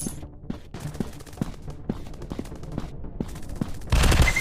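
Rapid bursts of gunfire in the video game PUBG, sharp repeated shots crackling in uneven volleys, fairly quiet overall with a louder, denser burst near the end.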